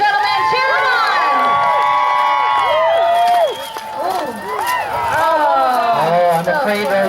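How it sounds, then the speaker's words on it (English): A crowd at a Spring Esco 2018 mounted event cheers for a horse rider with loud, overlapping shouts, whoops and excited calls that rise and fall around a busy stretch of voices. "Cheer him on, ladies and gentlemen."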